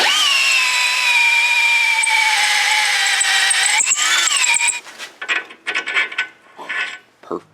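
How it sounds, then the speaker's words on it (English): A power drill whirs steadily with a reamer bit, reaming a hole in a Pitman arm during a crossover steering install, its pitch dipping and rising under load, then stops into a few short bursts and clanks. "by using a reamer compared to just a regular drill bit, it helps keep the hole aligned"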